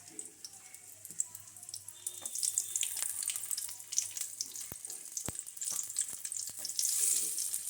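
Onion dropped into hot oil in a home kitchen sets off a sizzle and crackle that builds from quiet to louder, broken by a few sharp clicks and knocks.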